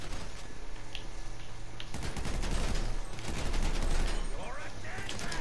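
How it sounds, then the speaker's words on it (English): Dense, rapid gunfire in GTA Online, bursts and machine-gun rattles overlapping almost without pause for several seconds, loud and sustained, with a voice faintly underneath. "Somebody just shot me."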